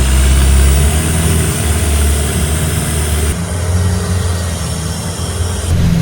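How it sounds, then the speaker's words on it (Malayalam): A long-tail boat off Krabi, Thailand, fitted with a big bus-type engine, runs steadily nearby, its loud, deep, throbbing drone continuous with only slight shifts in pitch. "അത് അവന്മാർ വലിയ എഞ്ചിനാണ് പിടിപ്പിച്ചേക്കുന്നത്, ബസ്സിൻ്റെ എഞ്ചിൻ പോലത്തെ എഞ്ചിനാണ് പിടിപ്പിച്ചേക്കുന്നത്"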